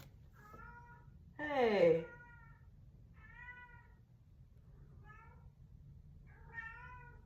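A cat meows several times, clearly audible between stretches of quiet room tone, with one louder, drawn-out wail and later shorter calls; a person speaks briefly.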